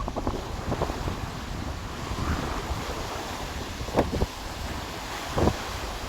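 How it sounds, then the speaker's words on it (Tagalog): Strong wind buffets the microphone while waves wash onto the fine-sand dolomite beach at Manila Bay, a constant rushing roar with occasional louder gusts. "alon mga bayan, grabe ang hangin"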